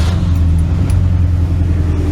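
The engine of a 1967 Ford Galaxie, recently given carburetor work, runs with a loud, steady low rumble up close, with no talking.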